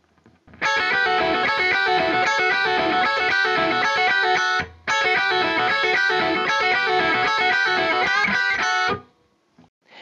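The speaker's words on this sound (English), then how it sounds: "a second guitar joins in and they play in harmony" Two distorted electric guitars playing a lead solo in harmony, one part a third above the other, dense continuous notes with a brief gap in the middle, loud and close with no voices.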